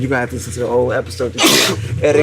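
A single sharp sneeze bursts out partway through a casual podcast conversation, loud and close, with people talking before and after it.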